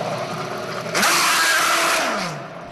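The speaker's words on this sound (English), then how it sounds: "The ear-piercing sound of Indy cars" An Indy car races past on a Baltimore street circuit, a high-pitched engine whine that swells abruptly, holds loud for about a second, then drops in pitch as it moves away.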